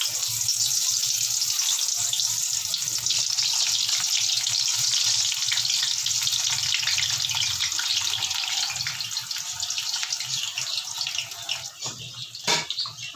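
Round slices of eggplant fry in hot oil for a tangy baingan sabzi, giving a steady, dense hiss and crackle that runs close and loud throughout, with a brief sharper clatter near the end.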